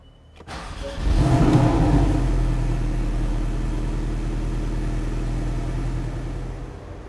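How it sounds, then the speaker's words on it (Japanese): A 2016 Porsche 718 Boxster with PDK and Sport Chrono package cranks and fires up after a second of quiet, flaring to a loud rev before settling into a steady, deep idle heard up close with no talking. "それではエンジン始動させていきます。"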